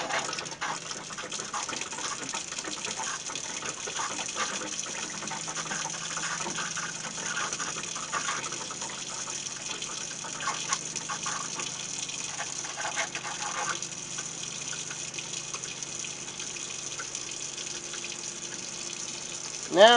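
Water runs steadily from an RV tap after a new inline water filter is installed, a continuous splashing gush into the sink for the whole stretch, ending with a brief louder knock.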